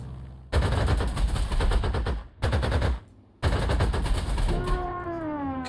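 Fighter aircraft attacking enemy bombers in the strategy game Panzer Corps 2, with loud sustained machine-gun fire in three long bursts separated by short gaps, ending in a wavering engine drone.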